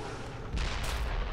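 A game explosion from the zombie survival title Dead Island, set in a sewer, erupts as a loud broadband blast about halfway through over a steady rumbling game background, with no talk.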